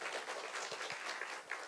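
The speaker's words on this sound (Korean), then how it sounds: "박형준 부산광역시장님께도 다시 한번 큰 박수 부탁드리겠습니다" Steady applause from a crowd, moderately loud and continuous, with a few sharper claps standing out near the end.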